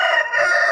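A rooster crowing while being held in someone's hands, a single loud close crow lasting under a second, recorded while the bird was recovering from a respiratory illness that causes snoring.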